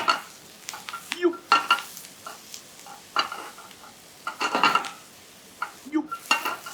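Bread and vegetables sizzle in a slightly too-small frying pan while being tossed, with bursts of hissing, metallic pan clatter and scraping in an irregular rhythm.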